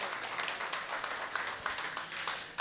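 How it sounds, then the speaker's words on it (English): An audience at a community cultural event claps in a dense, continuous round, with crisp individual claps popping out of the wash. The applause is moderately distant and holds steady before a louder burst at the very end. "Thanks for the applause"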